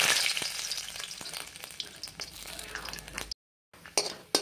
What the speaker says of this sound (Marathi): आता आपण खोबरं भाजून घेणार आहोत.